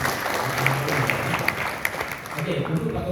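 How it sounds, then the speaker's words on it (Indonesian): An audience claps in a room, a moderate patter of scattered applause with a few sharper individual claps, while voices talk over it at the start and again near the end. "Tepuk tangan untuk kawan kita yang bertanya."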